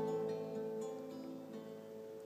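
A few quiet plucked notes on the short fretted strings of a theorbo, played like a guitar, each tone ringing and slowly fading alone with no talking.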